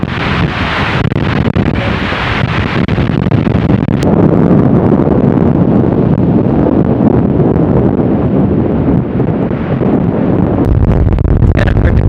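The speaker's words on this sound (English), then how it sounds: "Not sure how well you can hear me with all this wind" Strong, steady wind buffets the microphone beside Diablo Lake in the North Cascades, a loud continuous roar with gusty rumble throughout and no voices.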